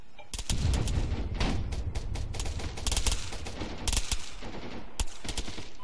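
Gunfire in an ARMA video game rings out as repeated sharp cracks and short rapid bursts, loud and close, separated by brief gaps, with a faint voice now and then.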